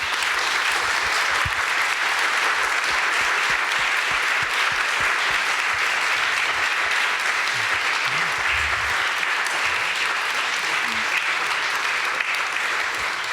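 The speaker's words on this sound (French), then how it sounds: "ils vont vous applaudir pour vous remercier" Sustained applause from a conference audience fills the room, dense and steady throughout with a few louder claps standing out near the start and no speech over it.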